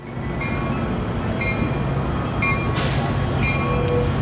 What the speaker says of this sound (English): It's like a local commuter train that's passing underneath us right now.